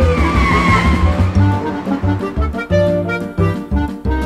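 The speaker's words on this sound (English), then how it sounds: "He can drive off in my car." Cartoon car driving off with tires skidding, the engine and squeal layered over a busy, rhythmic musical score, loud throughout.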